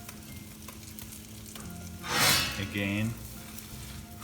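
Masala omelette cooking in oil in a pan, a steady soft sizzle with a brief louder burst of frying as it is moved around, while a person talks over it.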